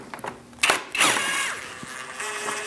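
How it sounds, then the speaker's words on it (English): A power tool with a 10mm socket backs a bolt out of the engine cooling fan assembly on a 2000-2006 Mini Cooper 1.6L L4, a short close whirring burst after a few clicks. "Now I'm going to remove the middle one with a 10mm socket."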